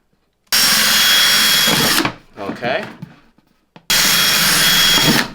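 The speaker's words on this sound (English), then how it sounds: "drill some more holes in here, cedar plank, to attach to our pot" A power drill whines loudly in two bursts while drilling holes in a cedar plank, separated by a pause where someone speaks briefly.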